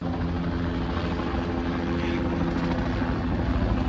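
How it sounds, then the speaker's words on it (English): A helicopter hovers overhead in a residential area of Wilton Manors, its steady rotor thrum and engine roar loud and continuous throughout, with no talking. "Then we see a helicopter hovering."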